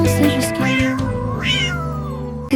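A cat meows in drawn-out, rising and falling cries over steady background music from a French children's song, fairly loud and close.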